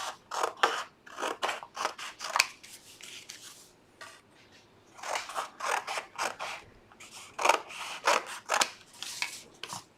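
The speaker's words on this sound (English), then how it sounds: "I'm going to cut this out to make the side frames." Scissors cutting out side boards for a display rack, rapid rhythmic snips in two bursts separated by a brief pause, close and crisp, with creaking and rubbing of the material.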